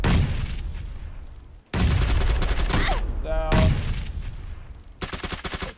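Dense bursts of automatic gunfire in PUBG, loud and close, coming in rapid rattling volleys separated by short pauses, with some talk mixed in.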